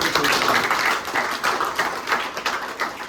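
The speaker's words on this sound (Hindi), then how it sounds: "जोरदार ताली होनी चाहिए" A crowd at a patriotic Hindi speech about Bhagat Singh claps in a lively, uneven burst of applause that pulses for about three seconds, fairly close and with no speech over it.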